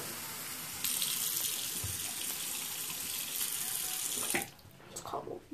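Tap water runs steadily into a foam cup, a close hissing splash that holds for several seconds before cutting off, followed by a few faint clinks and soft movement.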